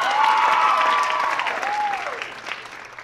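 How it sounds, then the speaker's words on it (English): Applause for students at a staff dance show, a crowd clapping warmly while a high, sliding whistle or whoop rings out over the top early on, the clapping gradually easing off. "Oh, we're going to clap for all of them"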